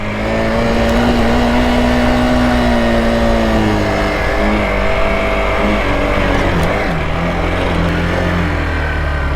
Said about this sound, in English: So now it's time to take this bike on road and give you my tarmac impressions.